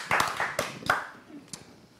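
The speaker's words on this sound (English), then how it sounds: "Applause." A few hands clap briefly in a small, sparse burst that fades out within a couple of seconds.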